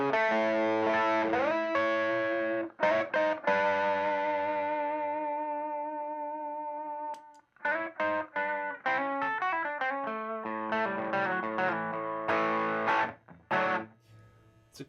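An electric guitar plays through a Beano Boost pedal into an overdrive pedal, with distorted chords ringing out and sustaining, then choppy riffs and stabs in between.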